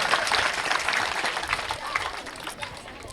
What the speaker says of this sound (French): Je voudrais qu'on les applaudisse très très fort.